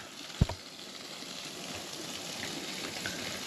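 Water from a newly hooked-up well, recently sterilized with bleach, flushes out under good pressure as a steady, even rush with a brief thump near the start.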